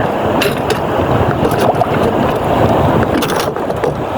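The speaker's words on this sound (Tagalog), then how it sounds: "Pabugso-bugso, malakas na hangin." Strong wind buffets the microphone in continuous roaring gusts, loud and close, with faint rattles now and then.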